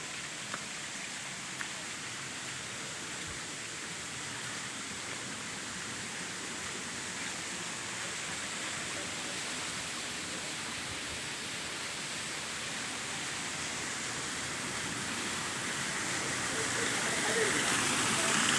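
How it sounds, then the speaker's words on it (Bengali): A waterfall pours down a hillside at Himchhari near Cox's Bazar, roaring in a steady, broadband rush, constant for the whole stretch and growing slightly louder near the end. "পাহাড় থেকে পানি ঝর্ণা দিয়ে গড়িয়ে পড়ছে, তার শব্দ আপনারা শুনতে পাচ্ছেন।"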